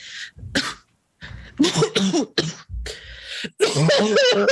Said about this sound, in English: He starts coughing and blood spurts down his mouth.